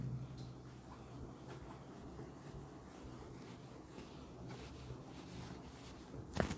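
Marker or chalk scratches and rubs across a board while a physics diagram for a lesson on work, power and energy is drawn, producing a faint continuous scraping with small strokes over a quiet room hum.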